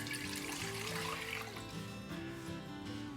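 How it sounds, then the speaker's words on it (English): Water poured steadily into a pot for kimchi rice porridge, a continuous close splashing flow with a faint hum underneath, no talking. "To make the porridge, I'm gonna add about 3 cups of water."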